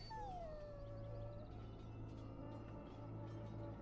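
A dog whines in a pen in the video game Guild Wars 2, a sustained falling whimper at the start, then steady low whining tones with a constant hum beneath throughout.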